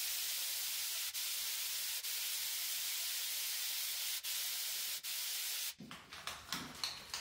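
A steady, loud aerosol spray of wall texture hisses continuously for several seconds with a few brief pauses, then stops, leaving light rattling and handling noises.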